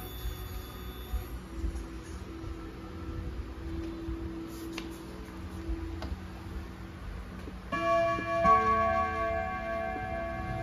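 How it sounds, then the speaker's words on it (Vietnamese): Antique clock with a white-alloy movement and a freshly oiled bell is struck, giving a clear ringing strike near the end with sustained tones, after quiet ticking and faint background sounds. "sẽ gõ thử cho các bác cái chuông."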